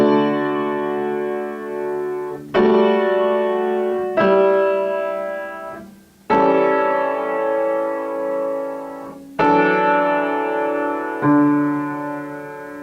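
Chord progression with suspensions played as a sequence of six sustained chords on a keyboard-like tone, each struck cleanly and decaying before the next, with no voices.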